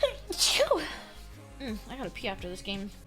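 A streamer's single sneeze bursts out loud and close near the start, followed by ongoing conversational speech from several voices.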